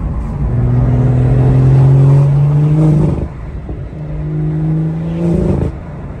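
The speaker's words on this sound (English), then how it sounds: "The B58 still sounds good." BMW turbocharged B58 inline-six revved twice, each climb rising to a held high note before dropping back, loud and close with a brief idle between the pulls.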